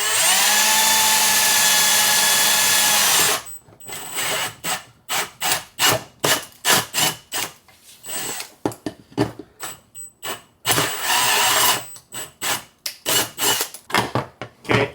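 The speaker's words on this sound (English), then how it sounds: "we'll drill our hole on that side right there" A power drill bores a 5/8 inch hole through a generator enclosure, running steadily for about three seconds, then in short rhythmic bursts, a second sustained run and more bursts, close and loud.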